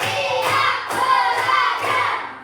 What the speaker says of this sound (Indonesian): coba semuanya tepuk 1, tepuk 2, tepuk 3, tepuk 4, tepuk 5